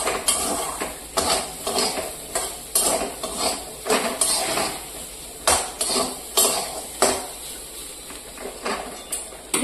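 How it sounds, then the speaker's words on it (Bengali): Spices, including panipuri masala, dry-roasted in a pan with no water, stirred with a utensil that clinks and scrapes against the metal in repeated close strokes; quiet, with no voices. "জল একটুও দেব না, এমনি শুকনো শুকনো ভাজা করব।"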